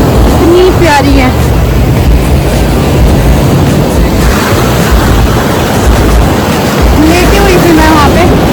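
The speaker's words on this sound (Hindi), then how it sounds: "तो इस वक्त ये लहरें" Ocean waves at Anjuna beach, a loud continuous wash of surf and wind that fills the whole stretch, with faint voices in the background at the start and near the end.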